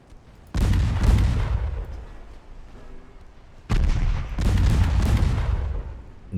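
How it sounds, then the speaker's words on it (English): Two heavy, loud bursts ring out a few seconds apart as a warship launches its front torpedo in a naval video game, each blast followed by a rumbling tail. "Front torpedo going out."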